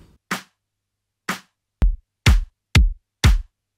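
Punchy clap sample from a sample pack, heard as six separate sharp hits at uneven spacing, the later ones fuller and heavier, each with a short bright tail, alone with silence between.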